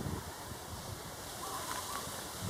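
Steady wind blowing through a garden on a cloudy day, a continuous broadband rush with faint microphone buffeting, no talk.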